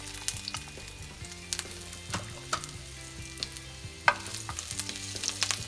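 Ginger frying in two to three spoons of hot oil in a pan, heard as a quiet, steady sizzle with scattered crackles and a few sharp spatters, up close and with no speech.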